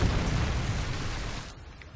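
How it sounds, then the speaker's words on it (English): A predator missile strike lands in a Modern Warfare 3 Search and Destroy match: a loud, rumbling blast fills the first second and a half, then quickly dies away into quiet. "Friendly predator missile inbound."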